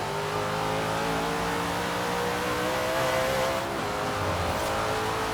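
A muscle car on race suspension roars steadily in Forza Horizon 3, its engine droning loud and continuous with a slight rise in revs near the middle.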